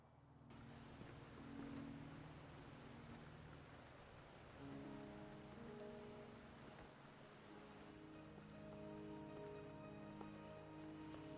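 Steady rain pours down across a scene in the video game Wuthering Waves, a dense continuous hiss of drops on surfaces with low tonal game ambience underneath, evenly loud throughout.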